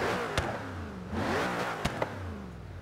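A supercharged 5.4 liter V8 from the original Ford GT, swapped into a car in Forza Horizon 3, revs and drones steadily with a few sharp pops and clicks between pulls, close and loud with no talking.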